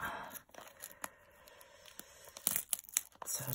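Plastic blind-bag toy packaging being cut and torn open with scissors, giving close, crisp snipping and crinkly tearing bursts in an irregular rhythm, loudest near the end, with no talking.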